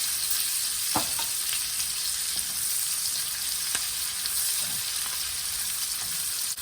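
Cabbage frying in bacon fat for home-style country fried cabbage, a loud, continuous close sizzle with occasional soft stirring scrapes and no talking.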